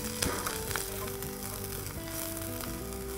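Sliced onion sautéing in hot oil gives a steady, close sizzle and crackle with a few faint stirring scrapes, no voices.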